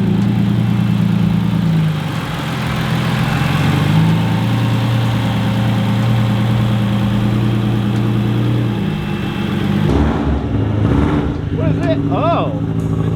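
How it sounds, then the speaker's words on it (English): A Subaru fitted with a Porsche engine idles on a dyno, a steady low rumble with an even pulse held close throughout; brief voices come in near the end over the running engine. "It's idling way fucking better already."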